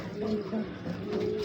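Grizzle pigeons, a pair whose hen has just laid her first egg, coo in low, repeated throaty phrases over steady background noise, fairly close and continuous.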